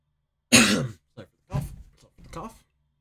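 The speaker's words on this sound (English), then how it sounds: "Cough." Several close, dry coughs and throat-clearing bursts in a quiet room: a strong first hack, then a short grunt and two rougher coughs spread over about two seconds.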